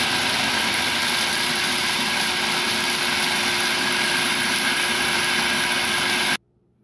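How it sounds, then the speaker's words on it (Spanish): A food processor grinds pork rinds (chicharrón), a loud steady high-pitched motor whir with a grinding hiss that runs continuously for about six seconds, then cuts off abruptly into silence. "lo vamos a moler en el procesador"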